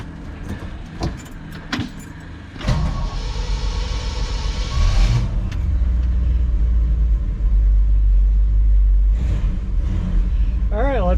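A 1959 Chevrolet Bel Air drives on the road, its engine rumble low and steady inside the cabin, with jingling keys and a voice heard in places.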